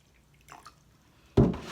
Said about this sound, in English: I'm gonna pour about a fourth of the amount of spring water to aloe vera gel